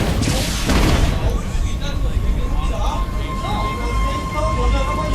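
Siege tanks in Siege Mode fire in a StarCraft II match, heavy booming blasts rolling out over dense battle noise and game effects, loud and continuous with a strong low rumble.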